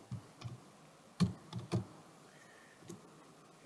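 Typing on a computer keyboard: a few sparse, faint key clicks spread irregularly over a quiet background, with no talk.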